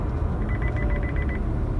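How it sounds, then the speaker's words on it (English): Chevy Bolt forward collision warning sounds as a rapid run of about a dozen short electronic beeps over steady road and cabin noise inside the moving car. "the car will beep at you like crazy if you get too close to a car in front of you."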